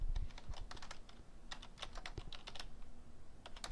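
Fast typing on a computer keyboard, a quiet, close stream of irregular key clicks with small bursts and brief pauses.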